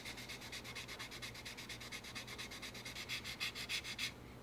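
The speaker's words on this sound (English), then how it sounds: "let's get to sanding" Wet sanding of a plastic model kit part from a 1/48 Zoukei-Mura F-4G Wild Weasel with a water-dampened flexi-file, heard as quiet, rapid back-and-forth rasping strokes at an even rhythm, close up with no talking.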